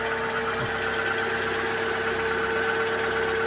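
A car engine idling steadily with a low, even hum and a constant mid-pitched drone, no voices.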